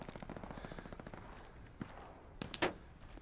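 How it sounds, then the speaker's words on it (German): Gunshots in the World War II shooter game Hell Let Loose: a rapid burst of distant fire, then a couple of sharper, louder cracks near the end, faint overall. "Der Schuss kam auf jeden Fall von hinten."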